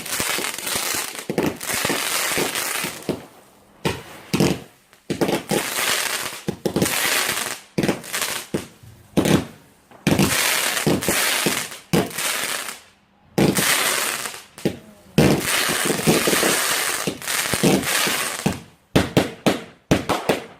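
Bonfire Night fireworks rockets bang and crackle in rapid bursts, with loud explosions clustered in volleys and brief quiet gaps between them.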